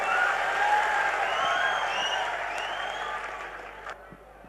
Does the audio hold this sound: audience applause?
yes